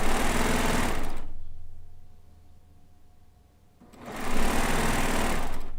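A Solaris sewing machine stitches in two loud, steady bursts of mechanical whirring separated by a quiet pause of nearly three seconds.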